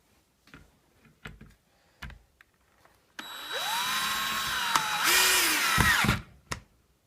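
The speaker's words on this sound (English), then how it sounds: "I'm going to drill down to make the first corner." A power drill drives a screw into joined boards, whining steadily for about three seconds with rising and falling motor pitch, after a few light taps and handling knocks.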